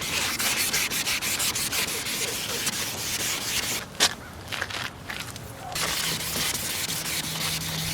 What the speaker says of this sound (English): we just finished sanding